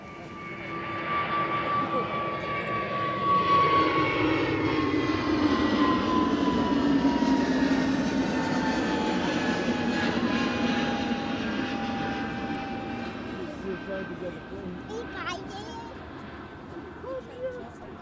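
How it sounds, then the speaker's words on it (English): An Emirates Airbus A380 airliner flies past near Edinburgh Airport with a broad, steady jet roar and a slowly falling whine that swells and then fades over about eighteen seconds, heard from a distance. "The A380 to the Emirates is coming in on Glasgow."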